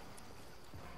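Footsteps in a video game come as a quick rhythmic patter of steps, faint and short, within a noisy game soundscape.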